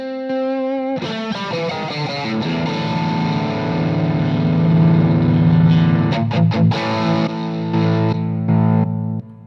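Sustained distorted electric guitar lead through an amplifier, notes held and bent with rich harmonics, loud and close, with a brief burst of rapid picking near the end.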